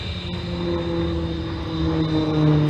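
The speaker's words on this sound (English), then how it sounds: "it's an excellent manoeuvrable airplane, as you can see" A Shorts Tucano turboprop trainer flies a display, its engine making a steady, loud propeller drone with a sustained whine that holds level and swells slightly near the end, with no talk.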